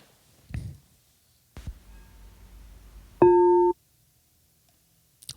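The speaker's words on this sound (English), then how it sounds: "Let's do a crystal bowl sound" A few soft knocks, then a brief, pure, bell-like synth tone rings out clearly for about half a second before cutting off.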